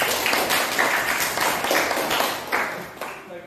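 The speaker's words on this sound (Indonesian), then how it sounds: "Kita berikan tepuk tangan untuk Jahratun." A school class applauds a student: dense, continuous clapping from many hands fills the room, loud and close, thinning out toward the end.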